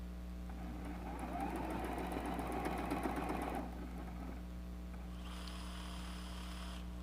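A sewing machine stitches a patchwork apron with a fast, steady mechanical whir for about three seconds, then stops, leaving a low background hum.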